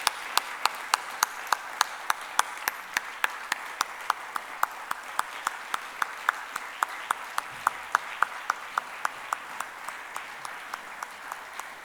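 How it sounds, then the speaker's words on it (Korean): A Korean church congregation claps during a worship service, sharp even claps in a steady metronome-like rhythm held for about twelve seconds over a quiet room. "우리 박수로 한번 축복합니다."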